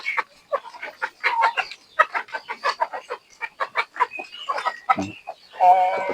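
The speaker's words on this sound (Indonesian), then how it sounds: "pemberian sarapan pada ayam-ayamnya" Many chickens cluck rapidly and close by at feeding time in an excited, busy chorus, with a sharp squawk near the end.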